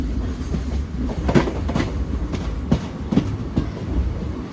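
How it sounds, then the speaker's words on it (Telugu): A special passenger train from Kakinada to Mysore runs on rails, its loud continuous rumble carrying an uneven clickety-clack of wheels over rail joints heard from onboard. "మన బండి స్పెషల్ ట్రైన్ అని చెప్పాను కదా"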